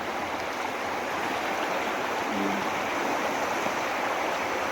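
Strong water current rushing steadily and loudly as a dense, unbroken roar close by, with no pauses or voices.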